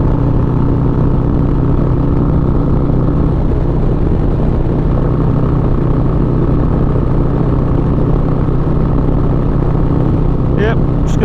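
A 2020 Harley-Davidson Low Rider S cruises through the Texas Hill Country, its engine droning steadily and loudly throughout with constant rumble, a rider talking over it.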